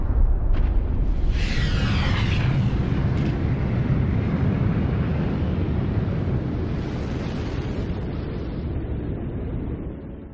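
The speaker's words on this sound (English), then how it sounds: "Massive stars end explosively." A supernova star explosion sound effect: a loud, sustained rumbling roar that opens with a burst and slowly fades over about ten seconds, with a hissing, whooshing swell early on and no voices.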